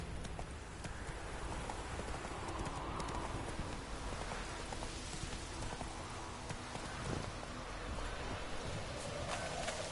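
Roach the horse's hooves in Witcher 3, a continuous clip-clop under loud, dense ambient game noise that resembles rain, with no voices.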